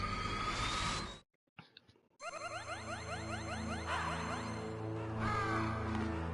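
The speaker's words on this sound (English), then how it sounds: "Y los cuervos lo terminaron de consumir." Crows caw in the Metal Gear Solid video game as harsh, repeated calls over an eerie game soundscape, broken by a brief near-silent gap before the cawing resumes.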